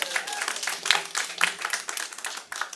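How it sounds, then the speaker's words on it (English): Applause from a crowd at an outdoor press conference rally against e-cigarette marketing to kids, greeting the public advocate. Scattered, steady clapping fills the whole short stretch at moderate loudness, with no speech over it. "Please give her a big round of applause."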